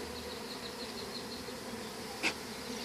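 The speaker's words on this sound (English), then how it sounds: "Anybody can do shirtless bee removals, right? Especially when they're nice bees." Steady, fairly faint buzzing of bees droning throughout a bee removal, one brief louder buzz passing close near the end.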